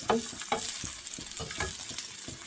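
Onions and chilies sizzle and crackle steadily in hot oil left from hilsa fish while being stirred in quick, repeated scrapes; no voices.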